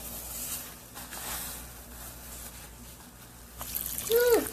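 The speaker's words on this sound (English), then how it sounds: "when you pour water all over the table," Water poured all over a table onto a Planet Wise bag, trickling and splashing steadily at close range, with a louder spatter near the end.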